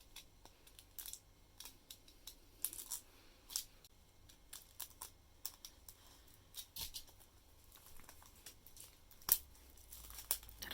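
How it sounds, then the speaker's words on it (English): Scissors cut open the packaging of a K-pop album with a series of quiet snips, crinkles and tearing rustles in an irregular rhythm, close by and faint. "So I'll cut it open now."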